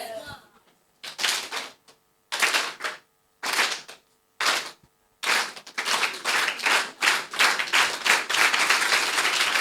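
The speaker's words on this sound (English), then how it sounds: "So once I do like this, you clap, you clap, you clap." Audience at a girl child dialogue event claps in bursts, following a leader's rhythmic pattern with short pauses between groups, then breaks into continuous rapid clapping, loud and close.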